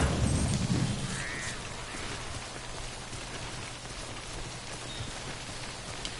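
Timefall rain in the video game Death Stranding falls as a steady, dense hiss of rainfall, with a low rumble at the start that fades into an even wash, and no voices.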